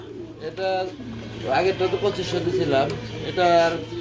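Pigeons in pairs at a pigeon market, cooing in repeated throaty bursts close by, heard under and between a voice talking.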